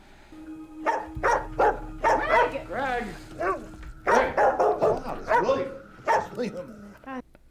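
A dog in a TV show barks and yips repeatedly in quick bursts, close and loud, mixed with speech and some whimpering sounds.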